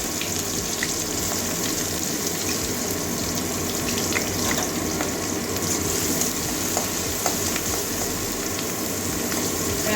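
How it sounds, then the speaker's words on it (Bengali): Onion and green chilli fry in hot oil in a pan, giving a steady, even sizzle and hiss that runs continuously throughout with no talk. "পেঁয়াজটা ভালো করে ভেজে নেব"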